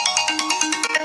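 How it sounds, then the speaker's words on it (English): A quirky, funky phone ringtone plays alone, a bright repeating electronic melody of rapid pulsing notes, loud and close, lasting about a second. "Oh, that is one funky ringtone,"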